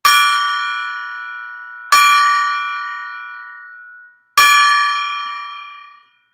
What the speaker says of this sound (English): The old golden gong. And no, this is not really made out of gold, but we can make believe that it is. Okay. I'm going to ring it 3 times.